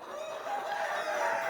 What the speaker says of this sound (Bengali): এই দেখেন হাইব্রিড মুরগি, 117 দিনের মুরগিগুলো অনেক বড় হয়ে গেছে